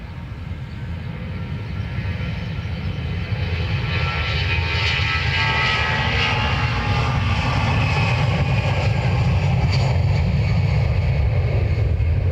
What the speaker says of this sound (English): 320 grinding its way down the runway.